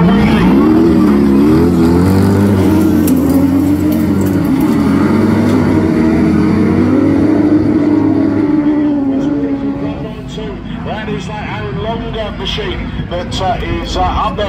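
Drag race cars launch down the opening straight at a national event, engines roaring loud and close before fading into the distance, with a commentator talking over the noise throughout.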